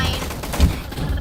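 Rapid machine gun fire from a gun fight arena video game crackles in a dense, continuous stream, swelling into a heavier burst near the middle before carrying on at a steady clip.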